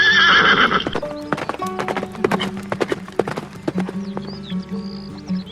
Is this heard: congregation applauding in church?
no